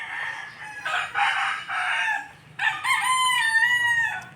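A rooster crows twice nearby, loud drawn-out calls, with a brief pause between them.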